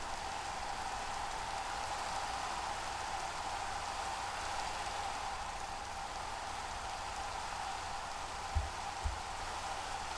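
Steady, moderate rain falls in Minecraft, an even patter with no talk, broken only by two soft thumps near the end.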